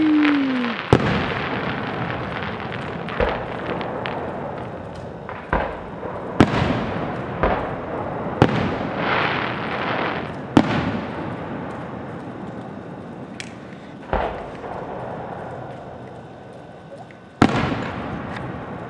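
A fireworks display in Chestertown, New York, with a steady series of loud booming bursts every second or two, each trailing off into crackle and echo, and a rising whistle at the start.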